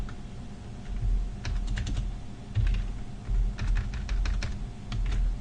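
Rapid bursts of keystrokes on a computer keyboard while writing Scala code, clustered in quick runs with short pauses, close and clear over a low background hum.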